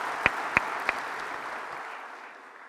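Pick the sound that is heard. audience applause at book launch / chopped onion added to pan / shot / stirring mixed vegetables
audience applause at book launch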